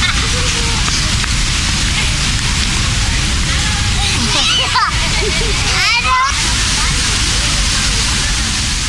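A waterfall near a village in Papua New Guinea roars steadily and loudly throughout, with faint voices and a few brief bursts over the constant rush of water.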